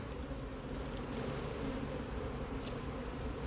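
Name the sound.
honeybee swarm being collected into a hive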